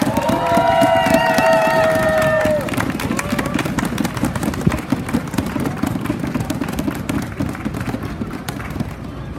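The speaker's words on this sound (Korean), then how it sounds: "큰 박수 부탁드립니다." Crowd applause and cheering at an outdoor election rally in Gunpo for a Gyeonggi education superintendent candidate, a loud dense wash of clapping and cheers that swells after a brief announcer's call and holds steady to the end.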